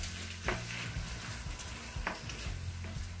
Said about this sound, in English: Mix together with the sauce.